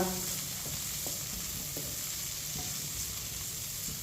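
Semolina roasting on low heat in a pan, giving a steady close sizzle with occasional soft scrapes of a stirring spoon.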